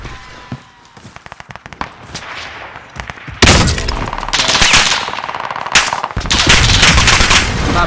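Rapid bursts of automatic rifle fire crackle in a first-person shooter game, starting as scattered shots and building into loud, sustained volleys with brief gaps, close and dominant.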